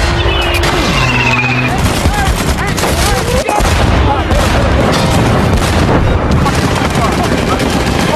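Dense war-film gunfire and anti-tank weapon explosions roar continuously, with rattling automatic fire, booms and vehicle rumble layered under shouted voices, loud and close throughout.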